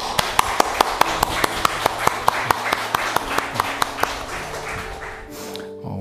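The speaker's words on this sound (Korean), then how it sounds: "우리 하나님 앞에 영광의 박수를 한번 드리겠습니다." A church congregation at a Sunday service claps in a crisp, steady rhythm, a string of sharp evenly spaced claps for about five seconds before it stops and a low sustained tone lingers.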